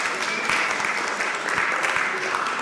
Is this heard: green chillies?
no